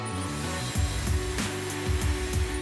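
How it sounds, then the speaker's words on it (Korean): A hair dryer blows steadily at close range while drying a man's hair, a constant airy roar with a shifting motor hum as it moves around. "앞쪽으로 향하게끔 드라이기를 뒤에서 앞쪽으로"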